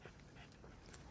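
Two or more dogs panting at the start of a walk, a quiet, steady rapid breathing with faint small whimpers, close by and low in level with no talk over it.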